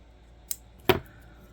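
Scissors snip tatting thread twice up close: a faint light click, then a sharper, louder cut, with quiet surroundings.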